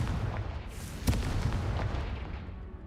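Confringo blasting spell exploding in Hogwarts Legacy, a single sharp boom near the middle followed by a rumbling decay over game ambience.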